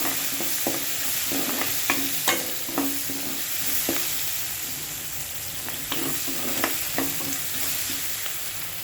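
Four garlic cloves frying in hot tempering oil for a Karnataka-style gooseberry gojju, a steady close sizzle broken by repeated sharp scrapes and taps of a ladle stirring the pan, no talk.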